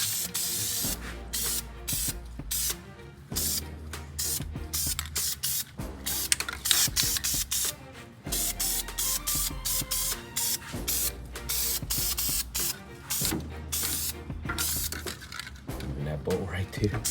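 Spray paint mists onto a part during a turbo build of a 1997 JDM Honda Accord wagon, sounding as repeated hissing bursts with short gaps between them. The can is held at a distance from the part, and speech is mixed in with the spraying.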